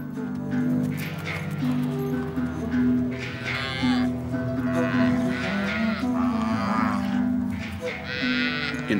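Nelore zebu cattle mooing repeatedly in low, drawn-out calls, several animals lowing over one another in a herd moving through Amazonian marshland, with steady background noise and no talk.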